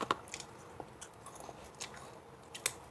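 Crisp crunching of yogurt-flavored potato chips being chewed, with several sharp bites and crackles close up, no talking.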